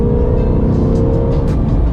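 A fast, high-powered car accelerates at full throttle, heard from inside as a loud, sustained engine roar with a steady droning tone and road rumble throughout.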